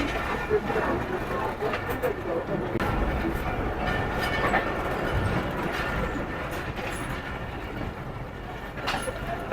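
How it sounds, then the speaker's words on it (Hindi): The Awam Express pulls out of Rawalpindi railway station with a rumbling roll of carriages and rhythmic wheel clatter, close up and continuous, alongside nearby voices. "ये ट्रेन अभी चल पड़ी है रावलपिंडी रेलवे स्टेशन से।"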